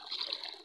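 Water of the Cialing river at Jatigede flowing between bamboo on both banks, a steady, soft, continuous rushing trickle that stays even throughout with no other sounds.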